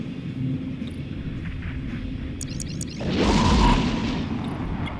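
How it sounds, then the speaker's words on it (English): Missile volleys strike a ship's shield and armor in the space game EVE Echoes, building into a single deep rumbling boom midway over a steady low engine drone. "One of my missile volleys does hit the shield, the other one goes through and hits the armor"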